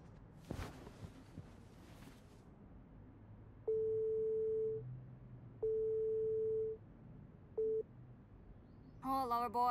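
Skype call tone from a computer in the video game Life is Strange 2: a steady electronic ringing beep repeats three times in long, evenly spaced pulses, the last one cut short, over a quiet room hum with a brief knock at the start.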